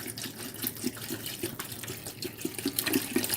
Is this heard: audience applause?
no